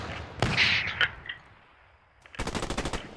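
Gunfire rings out in the WW2 game Post Scriptum: a few sharp single shots early on, a quiet gap, then a rapid machine-gun burst of about ten evenly spaced rounds, loud and close, with no talk over it.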